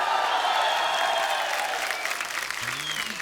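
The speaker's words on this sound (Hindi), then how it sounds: "आप सबकी जोरदार तालियों के बीच" Studio audience at a comedy talk show breaks into sustained applause and cheering, a dense continuous roar of clapping that holds steady throughout.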